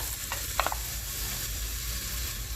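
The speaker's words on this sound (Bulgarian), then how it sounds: "Сега ще си сложа каймака." Minced meat frying in a pan with onion, garlic, salt, paprika, savory and cumin, a close, even sizzle with a couple of brief stirring clicks, no talk.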